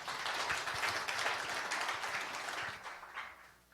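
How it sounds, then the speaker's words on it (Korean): A lecture-hall audience at a humanities forum gives a welcoming round of applause for a visiting professor. The clapping is soft, dense and slightly distant, holding steady before tapering off near the end. "여러분 큰 환영의 박수 부탁드립니다."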